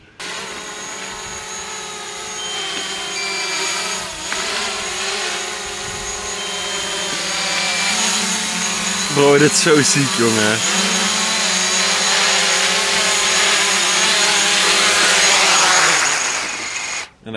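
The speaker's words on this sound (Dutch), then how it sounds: "We gaan hem even over ons heen laten vliegen." Drone in sport mode passing overhead outdoors, a steady high-pitched buzzing whine that swells as it nears and sweeps past mid-clip, with a voice speaking briefly over it.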